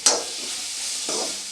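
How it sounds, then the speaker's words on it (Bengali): Broad beans frying with salt, chili and turmeric powder in a pan, a close, bright sizzling hiss that stays even, with a brief stirring scrape near the start and another near the end. "দিয়ে আমি 2-3 মিনিট এটা ভাজতে থাকবো"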